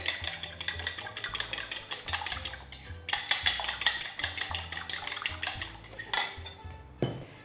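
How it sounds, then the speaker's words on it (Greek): A fork lightly beats ingredients in a bowl while making baked zucchini fritters, a quick, steady run of close metallic clinks and taps against the dish, pausing briefly and resuming, with no voices. "Τα χτυπάω ελαφρώς με ένα πυρούνι για να ομογενοποιηθούν λιγάκι"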